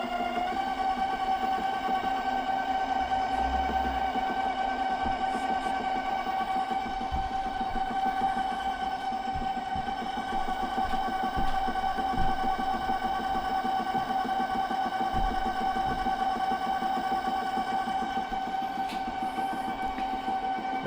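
Ooni Halo stand mixer with its beater attachment running at speed 7, a steady motor whine with a strong sustained hum and faint rhythmic knocking from the bowl, continuous and fairly close for the whole stretch.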